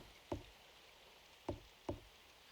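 Door knocking in Symphonic Rain, three distinct raps on wood, one alone then a closer pair, clean and fairly loud against near silence.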